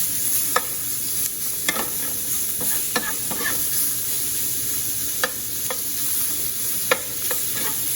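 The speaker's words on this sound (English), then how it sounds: "We're going to fry these at medium" Beef sizzling in a pan over medium to high heat for soup, a steady loud frying hiss with repeated stirring scrapes and clicks throughout, no talking.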